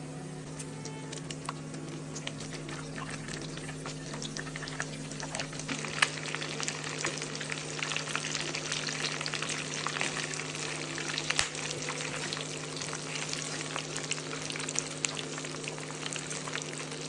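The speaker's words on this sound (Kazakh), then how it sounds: "жағын қызартып қуырып аламыз" Lavash snack rolls shallow-frying in oil in a pan over medium heat, with a long, even, fine crackling sizzle and dense tiny pops, plus a steady low hum beneath.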